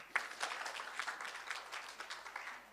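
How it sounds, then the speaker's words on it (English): An audience at the Surgical Society of Kenya's annual scientific conference applauds the Governor, a fairly quiet but continuous patter of many hands with a few sharper claps standing out, steady across the few seconds. "And a round of applause for Governor"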